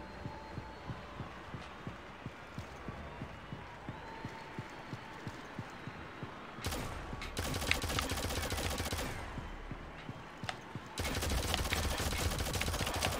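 Gunfire in a Shadowgun Legends PvP duel, with a steady rhythmic thudding that gives way to dense bursts of rapid automatic shots in two loud stretches, close and punchy within game audio.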